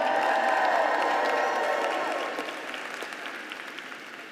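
Large crowd of graduates at a spring diploma ceremony cheering and applauding, a broad roar of clapping with a few voices whooping, loud at first and then gradually tapering off.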